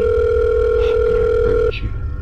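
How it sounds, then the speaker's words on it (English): A steady phone ringback tone sounds loudly on a call for about a second and a half, then cuts off abruptly, with voices talking in the background. "Okay, guys, it's still ringing."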